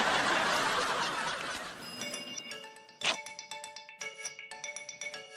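A phone ringtone chimes at night in a sustained, melodic electronic pattern of repeated tones. It rises after a dense burst of noise and a brief thump, and a short chuckle is heard alongside.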